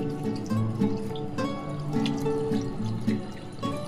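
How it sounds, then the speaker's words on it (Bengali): Water poured from a container onto mutton for boiling in a pressure cooker, heard as close, uneven gurgling and splashing with bubbly drips and liquid plops over a few seconds, no talking. "এবার পরিমাণ মতো সেদ্ধর জন্য যতটুকু জল লাগবে জলটা আমি দিয়ে দিচ্ছি।"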